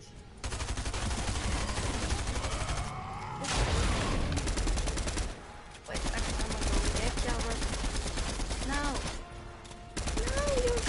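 Rapid bursts of video game gunfire rattle loudly through most of the stretch, with brief lulls between volleys and a voice talking over the shooting.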